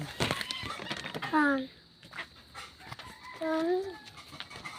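Boston chickens in a backyard poultry pen cluck and squawk a few times at close range, with children talking over and between the calls.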